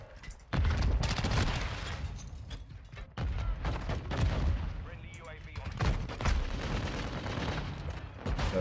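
Heavy light machine gun fire in Modern Warfare 2, with long loud bursts of rapid shots broken by brief gaps and a voice talking over the shooting.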